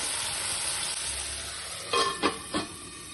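Tomatoes frying in a pan for ridge gourd curry, a steady soft hiss with three short, louder stirring scrapes near the end.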